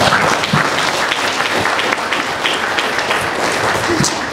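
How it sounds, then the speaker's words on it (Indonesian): An audience at an Islamic boarding school admissions event claps for the students' performance, a dense, continuous round of applause with a few louder individual claps standing out, lasting several seconds. "Berikan tepuk tangan"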